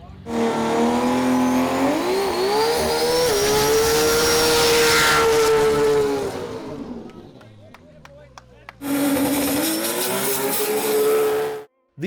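A Nissan GT-R at a drag strip festival screams up through its revs with a rising, whining pull, then drops off into crowd noise and clicks before another loud run starts up near the end.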